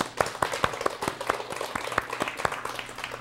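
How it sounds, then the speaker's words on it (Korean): A church congregation at a Thanksgiving service claps to encourage its students, sharp individual hand claps in a fairly even rhythm, a few close hands standing out over a light hum. "우리 학생들에게 한번 격려와 박수 올릴까요?"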